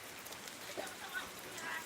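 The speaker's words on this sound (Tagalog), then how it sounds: "Ulan diri sa Cebu City" Rain falls steadily in Cebu City, giving a soft, constant hiss with small patters of drops, and a voice talks over it.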